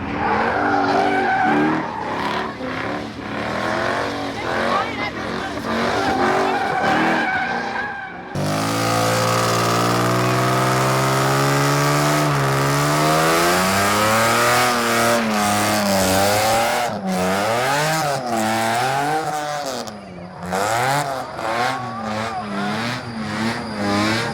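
An Infiniti at a race track drifts with loud, sustained tire squeal over a revving engine, the screech rising and wavering in pitch as the car slides close by for over twenty seconds.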